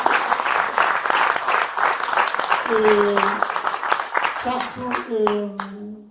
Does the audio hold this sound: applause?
yes